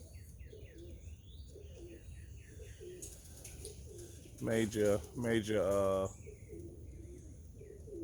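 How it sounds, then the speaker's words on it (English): Young pigeons out on a morning fly near 7 a.m., with soft repeated coos and chirps in the background and a brief burst of someone talking in the middle. "Great day to get them birds out."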